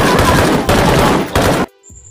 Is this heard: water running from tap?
no